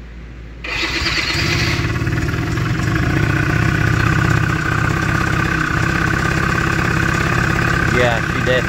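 A vehicle engine cranks and catches after a short quiet moment, then settles into a steady, loud, close idle with a constant rumble that runs to the end.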